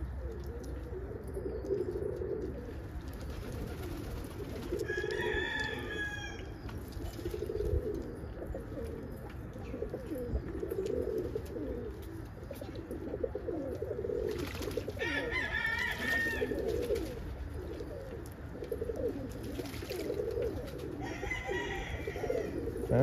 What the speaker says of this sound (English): But it's beautiful to watch the birds take a bath.